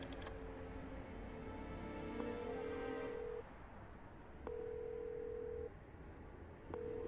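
An old rotary phone is dialed in the Chicken Police video game, with a steady dial tone broken by mechanical dialing clicks and pauses, followed by repeated ringback tones, heard alone.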